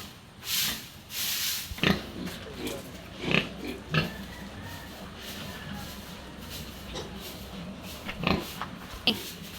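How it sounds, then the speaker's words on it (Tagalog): Pigs grunting and oinking in a piggery before feeding time, with scattered snorts and shuffling bursts across the pen at close to moderate distance and steady farm background noise. "alas 4 na po ay kakain na po ng mga baboy"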